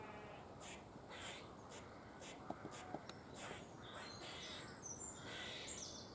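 Birds squawk and chirp faintly in the background outdoors, a few scattered calls, near squirrel pest control with air rifles.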